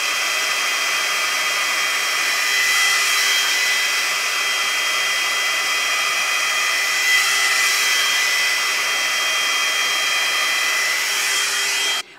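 A Ghd Duet 2-in-1 hot air styler blows through fine, short hair in a continuous, loud, steady rush of air that cuts off sharply at the very end.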